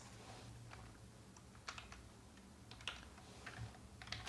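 Typing on a computer keyboard while writing JavaScript code, with scattered quiet clicks and a few short bursts of keystrokes over a faint steady hum.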